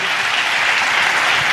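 A congregation claps together in praise during a pastor's sermon, a loud, dense and continuous burst of applause with no talk over it.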